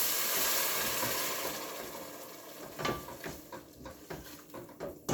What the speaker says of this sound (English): And I'm gonna stir all of this.